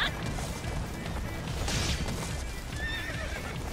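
A horse in the Attack on Titan video game whinnies and clip-clops at a gallop, hooves thudding steadily under a sharp neigh, with game effects around it.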